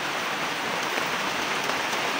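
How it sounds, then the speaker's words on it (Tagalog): Steady rain pours outdoors during the rainy season, a dense, continuous hiss of drops on surfaces, close and fairly loud with no voices over it. "Tag-ulan na naman."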